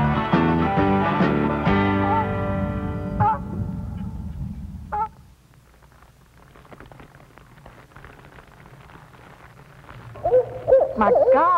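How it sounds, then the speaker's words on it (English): Owl hooting in a Louisiana Atchafalaya Basin swamp: a few short hoots ring out in the middle of the stretch, with tonal sounds at the start and end. "it sounded like an owl up there"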